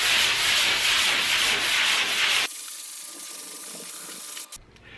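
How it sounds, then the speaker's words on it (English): Sanding drywall joint compound lightly on a repaired wall: a continuous close, loud rubbing hiss for about two and a half seconds, then it stops, leaving quiet room sound. "So I like to lightly sand the whole thing down."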